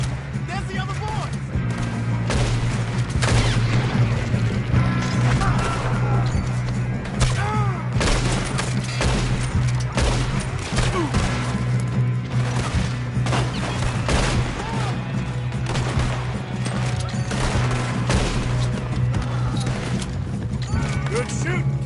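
Gunfire crackles through a Red Dead Redemption shootout, dense bursts of shots ringing out across nearly the whole stretch over a steady low hum, with occasional hoofbeats and voices mixed in.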